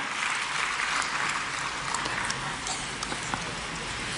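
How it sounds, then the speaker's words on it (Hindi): A crowd at a Bhopal ceremony honouring selected UPSC candidates applauds as Deepak Dangi comes on stage. The clapping is dense, steady and loud, with a few sharper individual claps standing out. "तालियों से स्वागत करेंगे श्री दीपक डांगी जी का"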